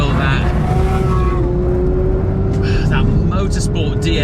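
A Porsche 992 GT3 runs hard on a race track, its engine a loud steady drone with rising tonal sweeps near the end as it shifts, all under continuous talking.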